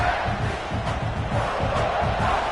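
Loud, steady roar of a football stadium crowd cheering for the defense during a red zone stand, a dense continuous wall of voices without pause.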